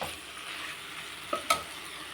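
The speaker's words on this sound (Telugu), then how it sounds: "ఇట్లా బాగా అంతా వేగిపోయిందండి." Vegetables for semiya pulao fry in a pan with a soft, steady sizzle, while a utensil scrapes and stirs with two short clinks near the end.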